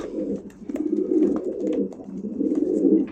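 Janssen-line pigeons coo in soft, low, repeated rolling phrases, close by, with faint rustling in between.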